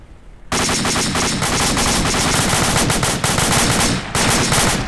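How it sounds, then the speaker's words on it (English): Heavy .50 caliber machine gun fire in the Arma combat video game, long loud sustained bursts of rapid shots after a quiet start, with a short break before firing resumes, with no talk. "they're firing into that tree line like crazy. And they have a 50 cal"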